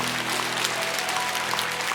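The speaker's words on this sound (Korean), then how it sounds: "하나님께 영광 박수 올립시다" Church congregation applauding after a sermon, a dense, steady wash of clapping from many hands filling the hall evenly, with no single claps standing out.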